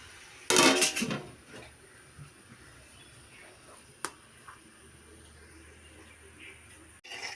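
A short clatter of metal cookware near the start, then a single sharp clink a few seconds later, with quiet background sounds in between.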